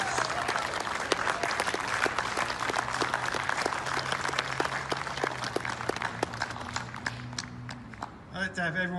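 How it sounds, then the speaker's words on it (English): An audience at a Vietnam veterans 50th commemoration event claps steadily for several seconds, dense applause with a few sharp individual claps, before it fades and a voice starts speaking near the end. "how about everybody give an applause here for Diane for doing all of this."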